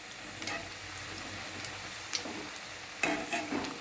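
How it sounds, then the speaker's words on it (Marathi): Vada pav fritters frying on low gas, a soft steady sizzle with a few light clicks and stirring taps, close and quiet with no talking. "बघू शकता एकदम मस्त असे दोन्ही बाजूने आई तळून घेत आहे त्यांना"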